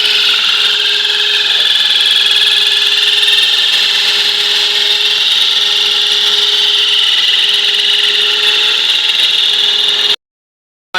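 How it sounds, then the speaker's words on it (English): Glass for an aquarium lid is machine-cut at a hardware store, a loud, harsh, continuous high-pitched whine holding steady for about ten seconds before it cuts off abruptly. "the glass is being cut"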